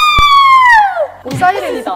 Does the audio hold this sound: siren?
yes